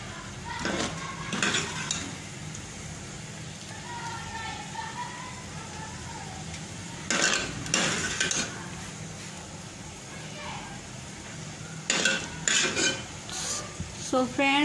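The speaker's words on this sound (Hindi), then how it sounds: "अब हम गोभी मटर को करते हैं डिश आउट, क्योंकि अब हमारा सालन हो गया है" Cooked gobi matar, a cauliflower and pea curry, is dished out of a pan with clinking utensils: several short bursts of metal scraping and clatter come close by, with quieter gaps and faint talk between.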